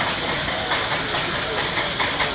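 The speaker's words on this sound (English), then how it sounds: "it sounds like a railway locomotive, doesn't it?" Steady hissing steam and chuffing from a steam traction engine working hard hauling about 100 tons at the Great Dorset Steam Fair 2013, with a constant broad rush of noise throughout.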